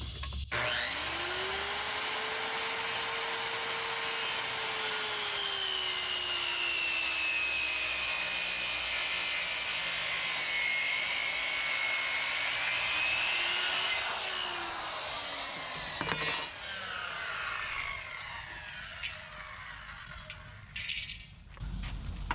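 Power saw cutting through a stack of five wooden roof rafters for a treehouse, a long steady whining cut of about fifteen seconds, then winding down into quieter shop noise.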